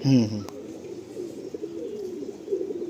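Pigeons coo softly in a loft, a low murmuring warble that continues steadily over a short stretch with a faint tap early on.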